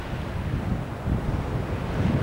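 Steady wind and sea waves at a beach in Belek, Turkey, a continuous low rushing roar with wind buffeting the microphone, no voices, constant and close.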